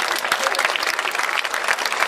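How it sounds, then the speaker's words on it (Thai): A Thai audience at the opening ceremony of a national school lunch event gives a dense round of applause to an honoured adviser, loud and continuous throughout. "ขอเสียงปรบมือให้กับท่านพินิจจันกระจ่างครับ"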